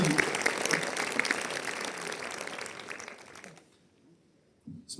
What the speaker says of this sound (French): Alors applaudissez le Seigneur